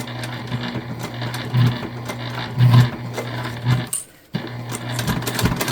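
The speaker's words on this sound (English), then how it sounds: "We're just going to make sure that we backstitch really well." Sewing machine backstitching the seams of a bag: a close, loud, steady motor hum with rapid stitching rattle, a few heavier clunks, and one brief stop before it starts again.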